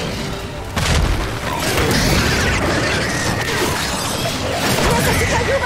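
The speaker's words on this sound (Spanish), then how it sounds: "¡Tiene que ser una bomba!" An explosion booms in the video game Gears 5, a loud, dense blast that roars on with rumbling debris and crashing noise for several seconds.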